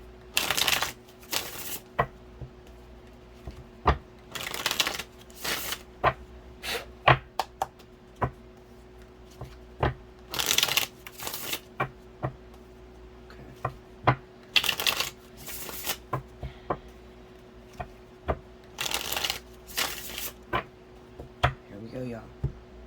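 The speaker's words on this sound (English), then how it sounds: "When I started this shuffle, that's when you should have grabbed the time for fire signs." Tarot cards being shuffled in repeated quick riffles and bursts, with soft clicks and pauses between shuffles and a quiet hum underneath.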